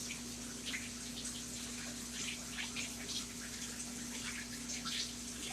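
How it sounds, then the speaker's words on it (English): Cold tap water runs steadily over onions in a kitchen sink, a soft continuous splashing with a low hum underneath and no talking. "Run it under cold water."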